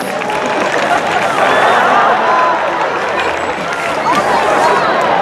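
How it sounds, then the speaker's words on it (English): An audience at the SeaWorld San Diego killer whale show applauds and cheers, a dense, loud wash of clapping and crowd noise that fills the outdoor stadium with voices mixed in. "Let's give them a nice round of applause."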